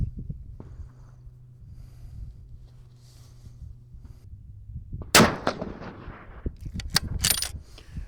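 A 6.5x55 Swedish rifle firing half fire-formed rounds at a range: one sharp, loud report stands out, followed by further bangs and rustling handling noise, with no talk.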